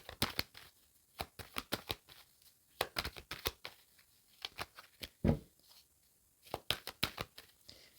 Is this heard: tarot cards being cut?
yes